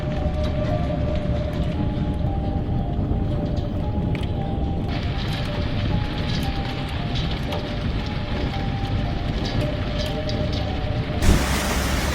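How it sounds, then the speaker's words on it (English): Dense, steady roar of heavy rain pouring down during a storm with strong winds, hail and flooding in Boise, broad and constant throughout, with a brief sharper burst near the end. "Strong winds, torrential rain, hail, and flooding hit Boise."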